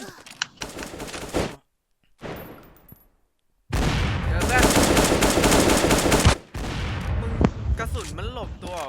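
An HK416-Viperid assault rifle fires in the shooter game Bullet Angel: loud, dense bursts of automatic gunfire break off briefly, then resume in a long sustained stream while players talk over it.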